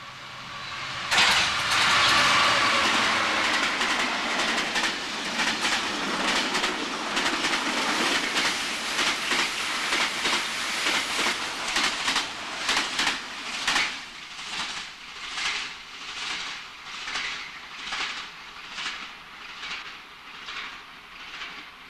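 A freight train passes Burton Joyce, first as a loud, broad rumble, then settling into a steady, rhythmic clickety-clack of wagons over rail joints that gradually fades.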